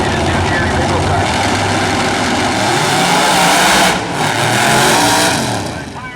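A nitrous Pro Mod drag race car roars loud and continuous at E-Town, engine dipping briefly mid-run amid tire shake before surging again, with an announcer talking over it.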